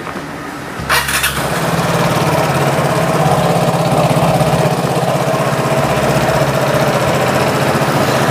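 A Vespa Matic scooter engine, long dormant and freshly serviced with a new spark plug and oil, sputters to life after a brief crank and then runs at a steady, loud, close idle.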